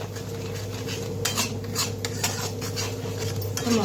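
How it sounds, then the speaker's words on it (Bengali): A metal utensil stirs spices, salt and Kashmiri chili powder in a pan for paneer: steady scraping and clinking of metal on metal over a low sizzle, close and continuous, with no one talking. "তো ভালোভাবে নেড়ে চেড়ে নিই"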